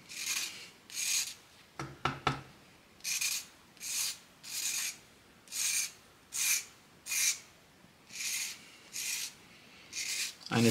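Pencil lead rubbed back and forth on ordinary sandpaper to shape a sharp point, a dry rasping scrape repeating in even strokes about twice a second, close and quiet, no voices.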